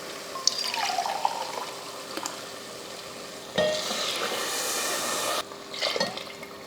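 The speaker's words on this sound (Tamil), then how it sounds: "மட்டன் வேக வச்ச தண்ணி 2 கப் ஊற்றியாச்சு." Water from boiled mutton is poured into a pot of sautéed biryani masala with lemon, splashing and sizzling loudly and close, with a steady rush that swells midway and then cuts off.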